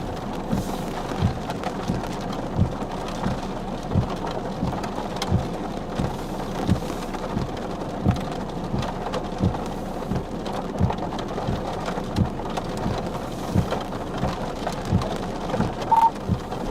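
Heavy rain pounds steadily during a violent tornado-outbreak thunderstorm, a dense close roar of drops on surfaces with rhythmic drumming and low rumbling, continuous and loud with no talk.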